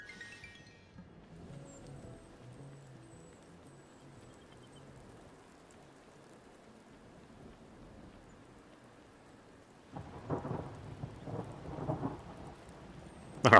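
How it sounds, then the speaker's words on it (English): A thunderstorm with rain in the Wylde Flowers video game, a soft steady hiss of rainfall with a low rumble that swells near the end into louder crackling thunder, heard without talk. "Oh, why is it all stormy?"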